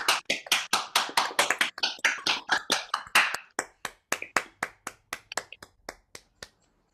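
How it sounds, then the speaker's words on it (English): Sparse, separate claps from a small online audience on unmuted microphones at a talk on feminism, the church and theater, a few dozen distinct hand claps that start brisk and thin out, fading and slowing toward the end. "round of applause for that."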